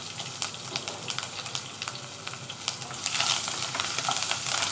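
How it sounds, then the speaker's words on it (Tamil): Green chilies, curry leaves and grated coconut sautéed in a pan after mustard seeds have popped. A dense close sizzle with light stirring taps throughout swells louder in the last couple of seconds. "இப்போ வந்து பச்சை மிளகாய், கருவேப்பிலை, தேங்காயும் அதில் நல்லா வதக்கிக்கிடலாம்"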